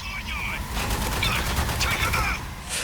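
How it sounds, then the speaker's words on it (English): Rapid bursts of gunfire from the shooter video game Spec Ops: The Line rattle loudly and continuously, with overlapping shots throughout, while someone talks over the action. "I shot that guy in the knee and he flipped"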